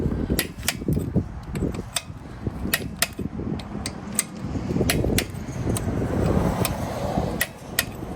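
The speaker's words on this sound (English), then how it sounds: "Don't over torque by keep pushing on the torque wrench after you hear the click." A torque wrench tightening wheel lug nuts during a home tire swap gives a series of sharp, irregular metallic clicks, close and fairly loud over low workshop rumble and handling noise.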